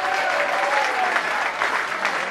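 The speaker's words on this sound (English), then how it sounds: "Please give yourself a round of applause." An audience at the Cutting Room music venue in New York applauds itself, a steady, full burst of crowd clapping with faint voices mixed underneath throughout.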